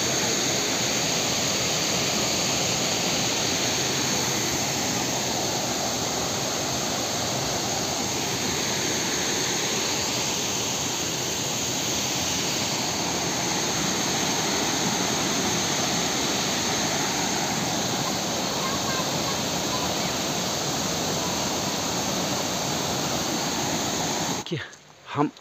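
Waterfall deep in dense forest at Jim Corbett, a steady roaring rush of falling water that fills the scene loudly and without pause, ending abruptly with a brief bump.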